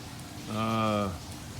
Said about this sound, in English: we got still been raining like cats and dogs here